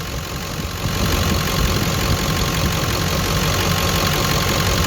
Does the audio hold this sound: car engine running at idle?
yes